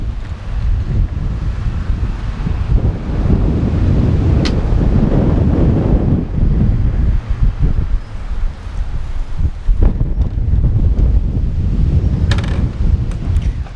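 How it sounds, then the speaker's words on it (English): Heavy wind buffets the microphone in a steady low roar at the ocean, rising and falling with gusts, with faint surf beneath and no talking. "it was a little bit windy out there"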